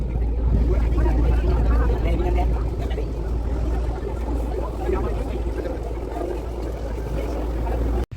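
A crowded passenger boat on a ride in Sri Lanka drones with a steady low engine hum and rushing water from start to finish, while people talk faintly in the background.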